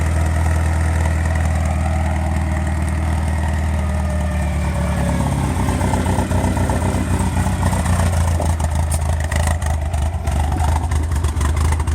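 A 1973 Chevrolet Vega GT hatchback idles loudly and roughly close by, its low throaty rumble from a rusted-out glass pack exhaust steady, with a brief rise in revs partway through.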